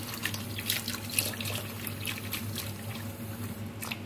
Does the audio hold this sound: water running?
yes